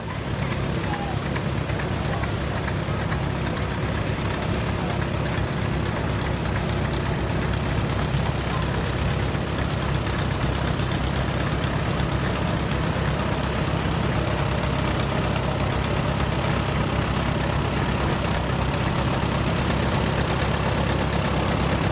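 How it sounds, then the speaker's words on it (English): A 1953 Allis Chalmers WD-45 tractor at an antique tractor show parade, engine idling with a steady, continuous low rumble and chug, loud and close throughout, with a crowd murmuring in the background. "Behind Rich is his other tractor, which is a 1953 Alice Chalmers"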